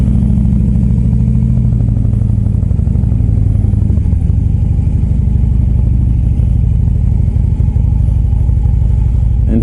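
A Harley-Davidson Road Glide Ultra motorcycle rides along with a steady, loud, low engine rumble and a thick droning exhaust that barely changes, with no talking.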